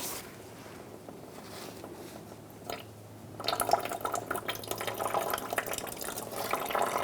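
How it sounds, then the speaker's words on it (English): Coolant drains from the radiator of a 2002-2006 Honda CR-V into a drain bucket, starting as a faint trickle and then swelling into a louder, steady splashing stream partway through. "We're going to undo our plug for our radiator and drain the coolant."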